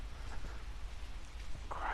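Water flows steadily in a river after a night of heavy rain, a constant rushing wash heard outdoors close by, with brief faint voice sounds in the mix.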